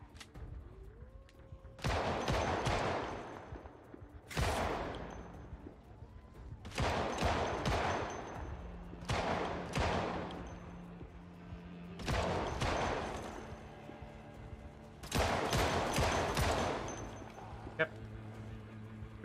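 Rapid bursts of gunfire come in several separate volleys from a Project Zomboid game, each lasting about a second or two, with someone talking quietly in the gaps.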